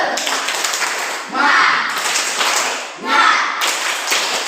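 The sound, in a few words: group rhythmic spirit clap (tepuk semangat)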